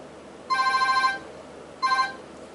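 A telephone rings twice with an electronic trilling bell tone, two short bursts separated by a brief pause, clear against a quiet background with no talking.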